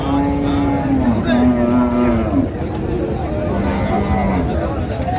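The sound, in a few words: cow mooing at a cattle market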